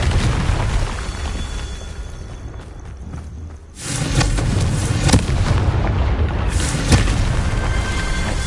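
A Confringo fire-blast spell explodes in the Hogwarts Legacy video game, a sudden loud booming burst midway that rolls into sustained crackling rumble and smaller pops, following a quieter stretch of game ambience.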